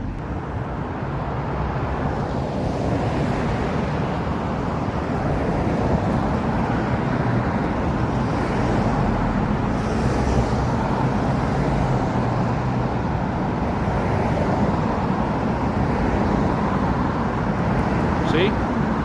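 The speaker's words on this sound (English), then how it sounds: "I am in a part of the United States where the traffic is heavy sometimes" Heavy traffic rumbles through the intersection of 8th Avenue and Colorado Boulevard, a dense continuous roar of passing cars and engines, with a person talking over it.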